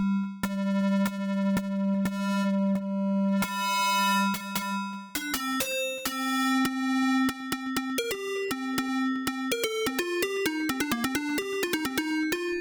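Bright synthesizer tones from an Elektron Model:Cycles played on a MIDI keyboard, starting with steady sustained notes and then moving into quicker melodic runs, loud and alone.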